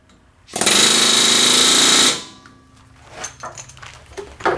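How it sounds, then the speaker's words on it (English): A chisel bit hammering a rear-end seal on a Chevy 3500HD, heard as one loud, dense burst of rapid pneumatic hammering lasting about a second and a half, followed by quieter clanks and shop handling noise. "I take a chisel bit, I hit it on both sides, and it expands it enough for it to come out"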